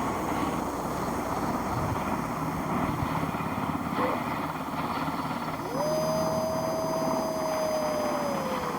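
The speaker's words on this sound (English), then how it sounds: "Whoa, it's kind of a low flying helicopter?" A low-flying helicopter roars steadily and loudly throughout, its rotor noise mixed with wind buffeting the microphone, and a rising whine joins in toward the end.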